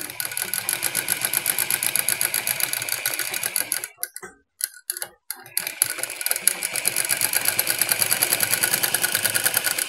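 A sewing machine stitches the neckline of a halter-neck blouse, a close, rapid mechanical chatter that stops briefly in the middle and then resumes at a steady pace.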